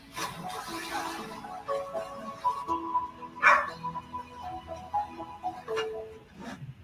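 A Rottweiler barks in several separate bursts over a background of steady tonal noise, moderately close and not very loud.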